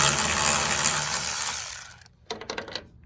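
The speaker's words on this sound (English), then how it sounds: "So you're going to grab your ratchet," Ratchet backing out 8mm bolts on a 2009–2014 Ford F-150 tail light, fast whirring clicks that fade out, then a few sharp separate ratchet clicks close by.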